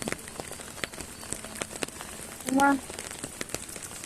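Rain falling during outdoor fishing patters steadily as scattered light ticks and drops on surfaces, fairly faint, with a brief tonal call rising midway.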